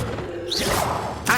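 Accio summoning spell effect in the video game Hogwarts Legacy: a quick magical whoosh that rises and sweeps, followed by a brief mechanical clatter and a final sharp burst, all within a moment.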